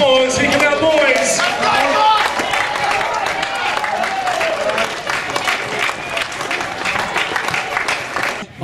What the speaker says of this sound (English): Give a round of applause. Here come our boys.